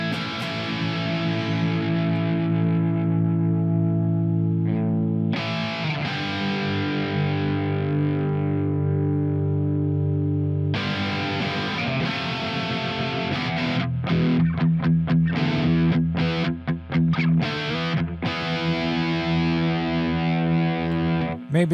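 A heavily distorted electric guitar through the Bias FX Desktop amp simulator plays sustained power chords, then a series of choppy, palm-muted strums, loud and saturated with no talking.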